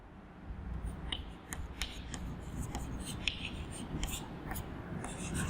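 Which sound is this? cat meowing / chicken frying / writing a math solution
writing a math solution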